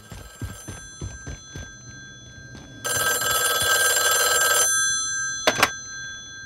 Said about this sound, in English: answer the phone call, Has.